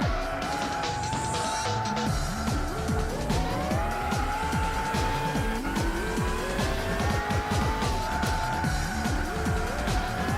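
AC 427 race car in the Gran Turismo 6 video game, engine revving loudly through rising and falling gear changes with repeated tire squeals and skids, steady and close throughout with no talking.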